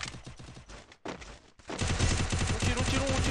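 Rapid gunfire in a shooter video game, bursts of automatic shots that stop briefly, then resume louder and denser with overlapping rounds, with players' voices mixed in.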